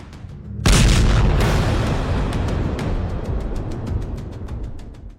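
Ballistic missile attack explosion: a sudden loud boom erupts after a brief lull, then rolls on as a long, heavy rumble that slowly fades over several seconds, with no voices.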